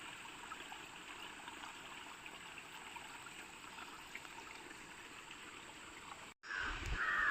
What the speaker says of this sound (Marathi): पाणी भरपूर वाहतं आहे बघा